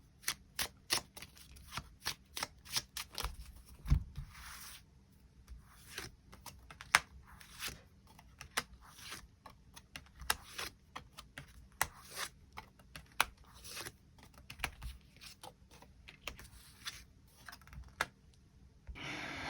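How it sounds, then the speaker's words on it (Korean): Tarot cards are shuffled and drawn close up, a long run of quick crisp riffling snaps and papery flicks in irregular bursts with no talking. "추가 카드 뽑아보도록 하겠습니다"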